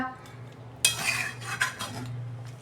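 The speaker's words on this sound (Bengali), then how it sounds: "দেখুন বন্ধুরা আমি ঢাকনাটা খুলছি" A metal lid clanks sharply as it is lifted off a pot of Bihari-style chicken curry, followed by a few lighter scraping and clinking sounds from the pan, close and fairly quiet, with no talking.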